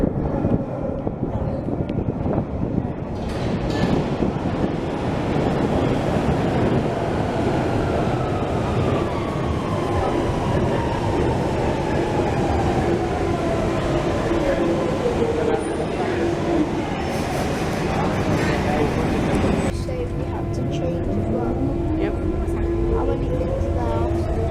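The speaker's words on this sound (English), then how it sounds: "We're now aiming for the westbound Central Line, which I believe is in this direction." A westbound Central Line train on the London Underground rumbles and roars loudly through the tube, with rising and falling whines from the motors and wheels, wind buffeting, and voices faintly in the background.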